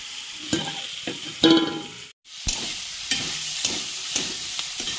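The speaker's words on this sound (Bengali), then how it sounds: "দিয়ে সব সবজিগুলো ভেজে নিয়ে চাউমিনটা দিয়ে দিচ্ছি" Vegetables and noodles stir-fried for vegetarian chow mein, with steady sizzling under repeated sharp scrapes and clatters of a spatula tossing the pan, close by and fairly loud, one brief gap partway through.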